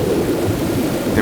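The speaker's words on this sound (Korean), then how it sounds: "야생의 초원에 때 아닌 비가 내리고 있다." Rain pours steadily over wild African grassland while low thunder rumbles beneath, a loud, dense wash of storm sound with no voices.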